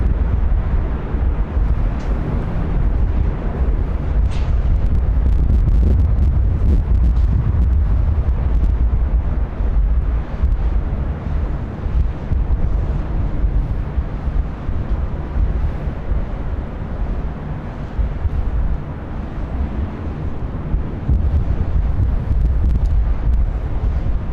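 Steady, loud wind buffeting a microphone outdoors at LAX airport, a continuous low roar with gusty rumble throughout and no talking.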